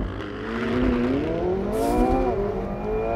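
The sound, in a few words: supercar accelerating hard in launch mode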